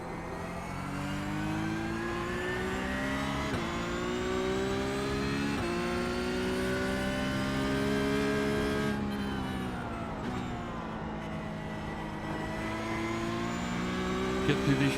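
A Porsche Cup race car in iRacing howls through the Nordschleife, its engine holding a loud, steady high-revving tone with quick shifts and brief lifts, close and continuous throughout.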